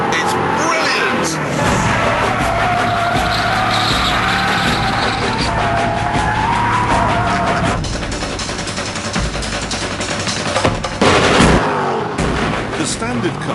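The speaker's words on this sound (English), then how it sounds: "The standard car sounds pretty good, but this is deeper, ruder, like Tom Jones gargling a NASCAR." An Aston Martin V8 Vantage engine roars through its exhaust, a loud, continuous deep growl with sharp crackling pops and bangs, rising and falling as the car drives past close by.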